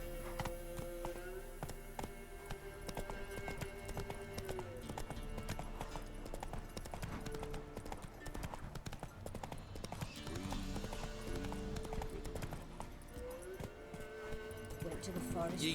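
Geralt's horse Roach trots in The Witcher 3, a continuous rhythmic clip-clop of hooves on the ground under game music and character voices talking.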